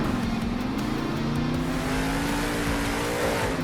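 A monster truck's engine roars under throttle in the video game Monster Jam Steel Titans 2 during an arena freestyle run, a loud continuous drone that sags then climbs and holds, with constant rumbling noise underneath.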